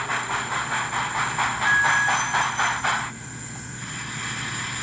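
An American Flyer model steam locomotive fitted with Rail Pro sound chuffs in steady rhythmic beats with hissing steam, then the chuffing drops away and a softer continuous hiss and hum remain.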